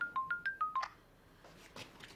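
A telephone keypad dials a number in a quick run of about five short beeping tones, then falls quiet apart from faint background noise, in a Chinese television drama scene.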